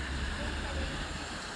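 A river flows through Albarracin, Spain, making a steady, continuous rushing wash that holds even from start to end without breaks.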